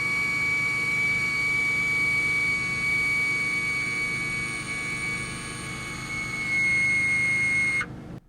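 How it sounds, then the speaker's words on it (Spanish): Front axle lift system on a Ferrari Enzo raising the car's nose, a steady whining electric pump hum with a sustained high tone, continuous and fairly loud before cutting off abruptly at the end. "Lo presionas y el coche levanta su eje delantero un par de pulgadas del suelo"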